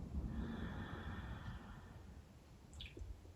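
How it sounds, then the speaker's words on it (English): A long, steady inhale through the nose during kriya yoga breathing, soft and close, with a faint airy rasp and no talk. "Inhale to begin."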